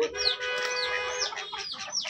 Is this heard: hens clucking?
yes